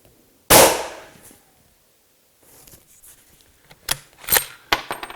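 A 7mm rifle loaded with 175-grain Hornady ELD-X rounds fires one sharp, loud report that decays quickly, followed after a pause by faint scattered clicks and a few brief clanks.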